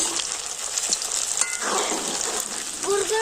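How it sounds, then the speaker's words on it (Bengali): Spicy kurkure snacks made from leftover rice sizzle and crackle continuously in hot oil as they are turned over and fried until reddish, loud and close, with occasional stirring clinks. "কুরকুরেগুলো আমি উল্টো পাল্টে খুব সুন্দর লাল করে ভেজে নিয়েছি"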